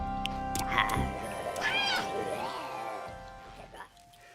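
Cats meowing in the strategy sandbox game Worldbox, several drawn-out cries overlapping against a steady game music bed, with a voice talking over them.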